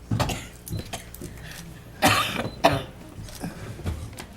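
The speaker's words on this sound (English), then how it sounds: "don't cough on me." Several short coughs scattered through the clip, with two stronger bursts in the middle, set against a noisy school board meeting room with some background murmur.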